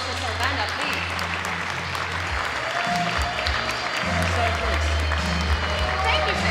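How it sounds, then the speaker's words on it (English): An audience applauds an award recipient named Silvana at a National Congress of Italian Canadians awards ceremony, with dense, steady clapping throughout, a low hum underneath and voices mixed in. "Everybody, a round of applause for Silvana, please"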